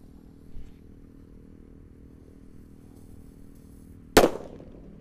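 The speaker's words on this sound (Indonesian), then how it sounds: "Kita nyalakan di lubang tanah." A mercon kera raja firecracker set off in a hole in the ground goes off with one sharp, loud bang near the end, after a quiet wait with a faint hiss and thump.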